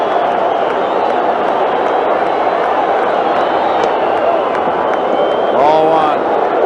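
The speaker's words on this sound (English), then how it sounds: "The crowd's on its feet." Baseball crowd on its feet during a World Series 9th inning, a loud, sustained roar of cheering and clapping filling the stadium, swelling slightly near the end.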